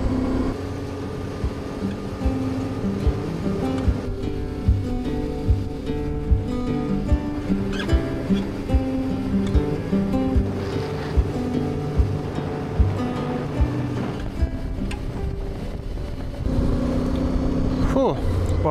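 A motorcycle rides steadily on a Lithuanian road away from Krekenava observation tower, heard from the rider's position. Its engine drones with constant wind rumble throughout and grows slightly louder near the end.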